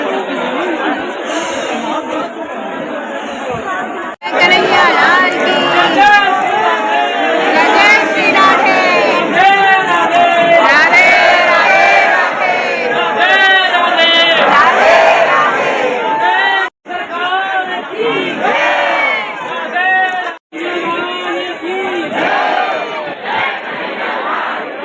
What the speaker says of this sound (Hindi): देखो आज राधा रानी टेम्पल में जाने के लिए कितनी भीड़ है, कितने सारे श्रद्धालु आए हैं आज दर्शन करने के लिए।